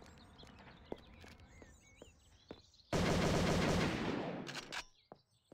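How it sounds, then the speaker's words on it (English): M16 fire from assassins in the video game Urban Chaos comes as a loud, sustained automatic burst of nearly two seconds. It follows quieter scattered shots and footsteps and ends in a few trailing pops. "These assassins with M16 equipped will shoot you constantly without the need to reload or resupply ammo."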